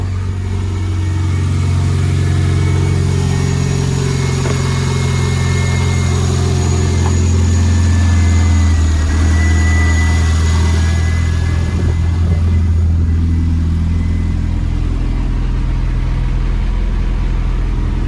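A Renault Clio turbo engine idles steadily and close by, a loud, even low rumble with a faint whine above it and no change in pace throughout.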